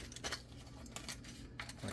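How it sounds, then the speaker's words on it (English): Small metal Allen keys rummaged and shuffled during an AR15 upper build, giving quiet clinking and jangling taps close by, scattered over a couple of seconds. "I'm not sure where my other Allen keys are, but I think I have some"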